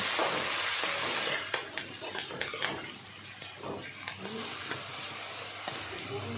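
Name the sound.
frying curry leaves, garlic, ginger and green chillies on low flame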